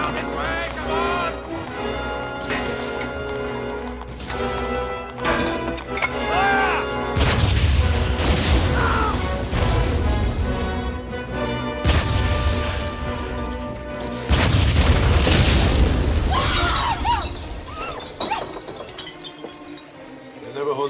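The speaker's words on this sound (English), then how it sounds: "They'll never hold out against artillery." Artillery fire and explosions in a battle scene of a Young Indiana Jones wartime film: heavy booming bursts mixed with orchestral music and shouting voices, continuing throughout.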